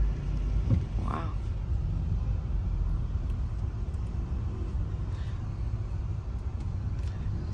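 Cars and other road traffic pass along the busy Ofankor-Nsawam road during construction, a steady rumbling wash of engines and tyres close by, with brief voices in the background.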